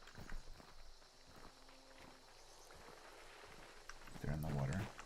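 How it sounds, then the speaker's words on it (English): Player footsteps in the video game Hunt: Showdown, soft rhythmic steps running through the clip under game ambience, with a louder burst of activity near the end. "They're shooting, so they might not hear my footsteps as easily."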